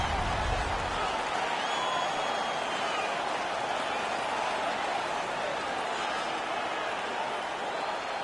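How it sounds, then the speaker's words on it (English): An arena crowd roars in a PS4 ice hockey video game after a fight, a continuous loud wash of cheering that holds steady throughout. "Their man's won the fight. The crowd is ecstatic."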